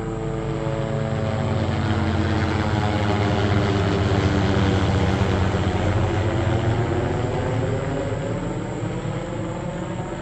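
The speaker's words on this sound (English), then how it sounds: "I don't know where that helicopter is, but he's low." A steady, loud rotor and engine roar from a low-flying helicopter overhead, droning continuously without pause and with no voices.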